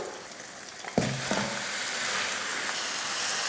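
Chicken pieces hitting a hot pan of fried ginger garlic paste set off a sudden loud sizzle, which settles into a steady, close frying hiss with a few light stirring knocks.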